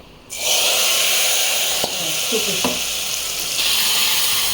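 Tempering spices hit hot oil for tomato dal and burst into a loud, close sizzle that stays strong and steady, broken by a couple of soft clicks.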